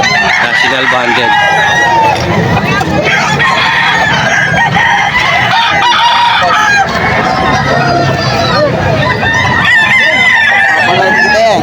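Bullstag gamecocks crow repeatedly at the Bocaue pet market, loud and close, with clucks and honking fowl filling the busy background while people talk nearby.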